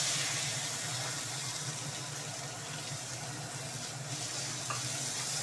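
Chopped onion and ginger-garlic paste fry in oil in a pan for an egg curry, giving a steady, close, moderately loud sizzle that holds evenly throughout with no talking.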